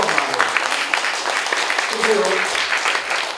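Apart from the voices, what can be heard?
audience applause at campaign rally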